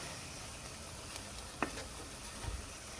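Flour roasting with oil and butter in a pot for chicken vegetable soup, a faint quiet sizzle with a couple of brief stirring clicks.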